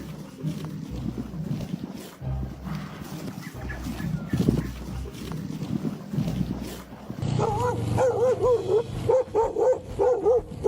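A dog barks repeatedly while chasing riders on bikes, with loud outdoor noise and rumble through the first part, then a run of close, rhythmic yelping barks toward the end.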